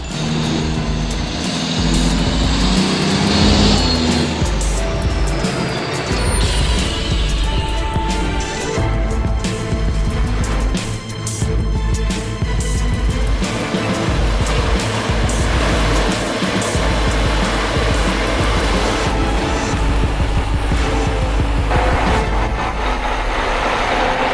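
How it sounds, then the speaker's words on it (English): A Kenworth W900 truck with a 450-horsepower engine pulls 15,400 pounds of timber through mud around a bend, its engine roaring loud and steady throughout, with clanks and rattles on top. "This Kenworth W900 rides through mud like a wild cowboy."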